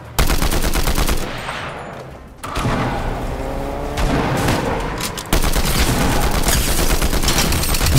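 Rapid automatic fire from Fortnite's new combat assault rifle, loud bursts of gunshots crackling in dense volleys with a brief lull around the two-second mark, then continuous shooting.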